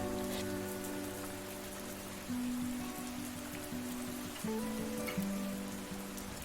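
Steady rain patters continuously beneath soft, slow music notes, an even hiss of falling drops throughout.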